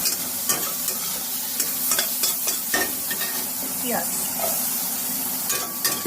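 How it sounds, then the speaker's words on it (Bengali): Onions fry in a pan for a breakfast dish with mushrooms, making a constant close sizzle with frequent crackles, spits and stirring scrapes over about six seconds, and no one speaks. "পেঁয়াজটাকে একটুখানি মজানোর জন্য আমি ভেজে দিচ্ছি।"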